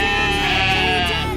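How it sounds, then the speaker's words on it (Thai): Sheep at a farm attraction near Hua Hin bleat steadily and close by, a sustained wavering cry filling the whole moment without talk. "เข้ามาหาน้องแกะ"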